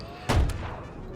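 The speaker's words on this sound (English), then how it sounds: "Oh, the puckle gun's going." A Puckle gun firing in the Empire Total War game, a single heavy booming shot with a deep low thud and a quick echoing tail over steady battlefield background.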